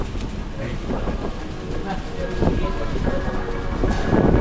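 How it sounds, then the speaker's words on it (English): Strong wind buffets the microphone on a Manila rooftop, a loud, continuous rumble that swells toward the end, with voices talking underneath. "It's too windy up here."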